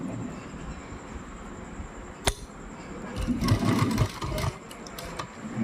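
A sewing machine stitches side strips onto fabric, heard as a short, close run of rapid rhythmic stitching rising over a low background hum, with a sharp click just before it.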